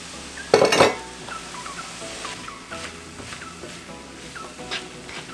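A spoon clanks and scrapes against a pot while chickpeas, kidney beans and corn are stirred together, with one loud metallic clatter followed by softer repeated scraping and clinks.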